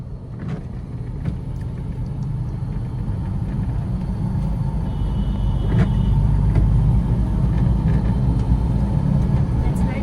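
A car drives on a highway in third gear, giving a constant, loud engine and road rumble that holds steady for the full stretch without a break.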